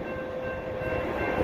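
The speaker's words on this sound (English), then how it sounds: "Oh, it's an M. It's an M. Yeah, it's an SD-70M." A Union Pacific SD70M locomotive leads a manifest train past a road crossing, its diesel roar and rumbling wheels loud and steady, with a sustained horn tone running throughout.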